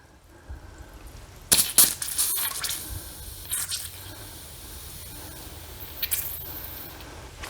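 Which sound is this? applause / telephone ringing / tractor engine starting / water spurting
water spurting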